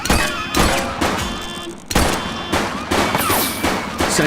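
Repeated bursts of gunfire erupt in The Precinct police game, loud, close shots in irregular clusters across the moment, with a brief lull before another volley.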